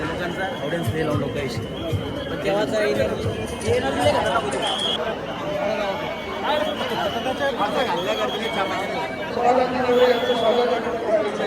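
Dense crowd babble at a Ganesh procession with bullock carts in Satpur, Nashik, many overlapping voices close around, steady and loud throughout, with nearer voices talking over the hubbub.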